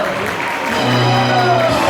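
Loud, steady applause from a crowd of guests at a wedding banquet in Makhachkala, a continuous wash of clapping with a tonal hum underneath.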